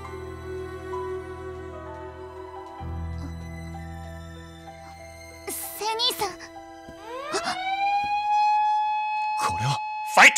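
Alert siren from the Sakura Wars video game on PS4, a rising wailing tone that sweeps up and holds steady in the second half, sounding over game music, with voices speaking before it.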